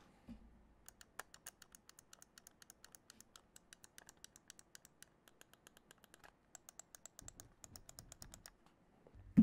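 A Razer Viper Mini wireless gaming mouse is clicked over and over, producing quick, light, close clicks in an irregular rapid rhythm against a quiet background, with no speech.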